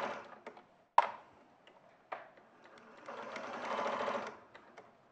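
A domestic sewing machine stitches a fabric strap toward its last corner, with a few sharp taps and clicks first, then a steady mechanical whirring run of about a second and a half, fairly quiet and close.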